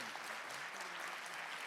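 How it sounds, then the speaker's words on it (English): Audience applause for a panel of speakers after a reading, a steady wash of clapping heard from within the room, fairly faint and continuous throughout. "I really want to thank all 7 of our panelists for getting us started with a quick round of applause."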